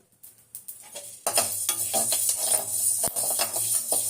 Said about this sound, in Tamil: இந்த தனியாவை வந்து தீயாம வறுக்கணும் சொல்லுங்களா